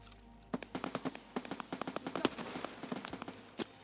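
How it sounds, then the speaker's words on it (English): Rapid, irregular bursts of M4 rifle fire in Escape From Tarkov crack out at a distance, a dozen or more sharp shots in quick clusters, fairly faint against quiet surroundings. "Is that not an M4 that I heard?"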